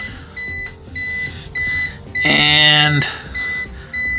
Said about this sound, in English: No visual other than that high current alarm